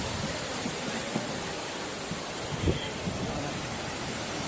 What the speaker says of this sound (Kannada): ಸಮುದ್ರ